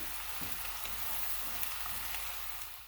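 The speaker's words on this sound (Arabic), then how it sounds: "انا نشتي نحمر الدجاج" Chicken pieces frying in a pan, a continuous bright hiss and crackle of hot oil that holds steady and cuts off abruptly at the end, with no talking.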